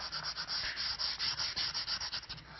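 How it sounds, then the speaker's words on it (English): A palm sander works the outside edges of a wooden jewellery box, rounding them off with a close, rhythmic pulsing buzz that rises and falls in quick regular strokes throughout. "Now we can use the palm sander to round off the outside edges."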